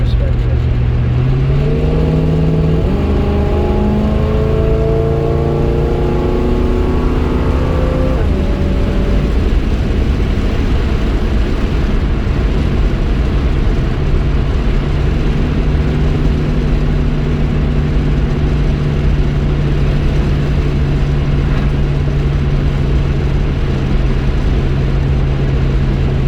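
A Chevelle's engine revs up steadily with rising gear tones in the first several seconds, then settles into a constant loud cruising drone, heard from inside the car on the road.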